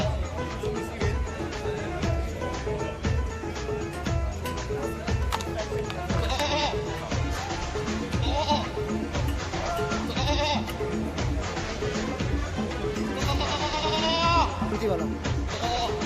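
Goats bleat at an animal market in Sharjah, several cries rising over a dense, constant layer of crowd chatter and bargaining voices throughout.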